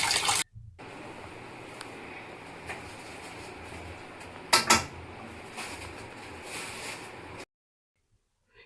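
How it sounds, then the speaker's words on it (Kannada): Fish is washed in water in a vessel, giving a steady wash of splashing and sloshing with a clatter of dishes partway through, close by, then quiet at the end. "ಫಸ್ಟ್ ಮೀನನ್ನ ನೀರಲ್ಲಿ ಚೆನ್ನಾಗಿ ತೊಳೆದು ಕ್ಲೀನ್ ಮಾಡಿ ಇಡುವ"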